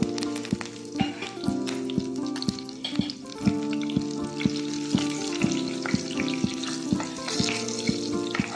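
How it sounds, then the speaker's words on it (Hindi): Curry leaves, a bay leaf, cumin seeds and a green chilli sizzle and crackle loudly in hot oil, close up, with a steady frying hiss and frequent small pops. "ऑयल गर्म हो गया है, अब इसमें डालते हैं करी, तेज पत्ती, थोड़ा सा जीरा और साथ में एक हरी मिर्ची।"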